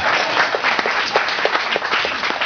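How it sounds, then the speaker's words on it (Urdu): An audience at a ghazal and nazm poetry recital breaks into dense, steady applause, many hands clapping together fairly close and loud with no speech. "تالیاں بجنی چاہیے اس بات پہ"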